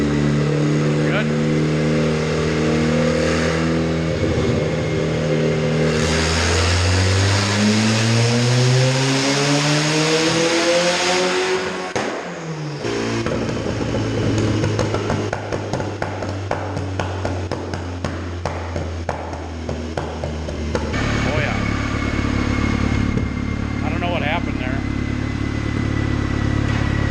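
A turbocharged H22-swapped Honda Civic on a dyno revs hard in a long rising pull that climbs steadily, then drops off sharply before the engine throbs and climbs again, loud and close.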